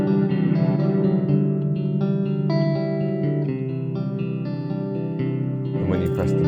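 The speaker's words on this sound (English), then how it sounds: "Then we have the high pass and low pass filters, so this will make it darker," Guitar played through an Old Blood Noise Endeavors Parting pedal with its high-pass and low-pass filters turned down for a darker tone, sustained chords ringing steadily and loud with a short brighter swell near the end.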